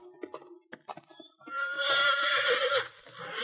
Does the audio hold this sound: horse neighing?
yes